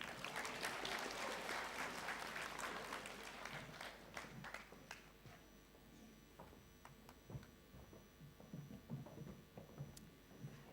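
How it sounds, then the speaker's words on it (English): Graduation ceremony audience applauds loudly at first, then the clapping thins out to scattered, sparse claps that trail off. "Another round of applause for the SRC president."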